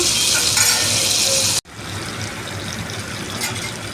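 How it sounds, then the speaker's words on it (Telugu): Onions sizzle loudly in a hot pan for tamarind chutney, a dense steady frying hiss that cuts out abruptly for a moment and then resumes a little softer. "ఇప్పుడు ఉల్లిపాయలు కూడా వేసేస్తున్నాం ఇలా సిమ్లో వేసుకొని వేసుకోవాలి మంచిగా"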